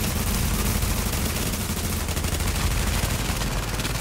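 Dense gunfire in the shooter Berserker Barrage, continuous rapid bursts forming a loud, unbroken barrage with sharp repeated cracks and no clear pauses.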